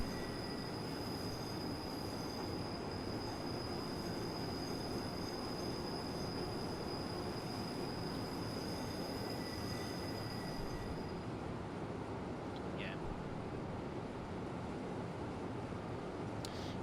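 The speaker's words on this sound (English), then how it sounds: "The loco we're running today is numbered 623" A Rhaetian Railway (RhB) locomotive numbered 623 runs in Train Simulator Classic on a Swiss line, giving a continuous loud rumble of rolling wheels with faint high squeal tones. A couple of brief sharp clicks come late.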